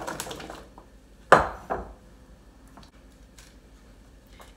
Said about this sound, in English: And then I'm going to put them onto a greased sheet tray.